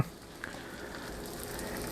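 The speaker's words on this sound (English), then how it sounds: "And you can just hear that sizzle of them." Pepperoni slices sizzle in a pan preheated to medium heat, a steady close crackle and hiss that holds low and constant for about two seconds, with one brief pop near the start.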